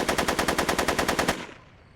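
A rapid automatic burst of gunfire, about fourteen evenly spaced shots, rings out close and loud before fading into a decaying echo, in the game Back to the Future episode 3.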